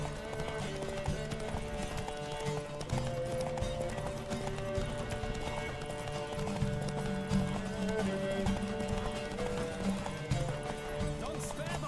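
Horse hooves gallop in a quick, steady clip-clop rhythm over game music, close and continuous throughout, during a horse race in The Witcher 3 video game.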